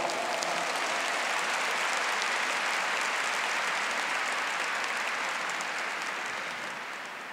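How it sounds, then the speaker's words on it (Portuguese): A church congregation applauding steadily for several seconds after a sermon reading, dense and even clapping that slowly fades toward the end. "Pode aplaudir essa palavra?"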